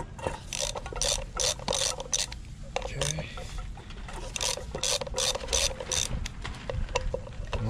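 A hand ratchet loosens 5mm bolts on the rear axle of a Motovox go-kart with a Predator 212 engine, giving rapid bursts of clicking pawl strokes close by, repeated in quick runs with brief pauses between them.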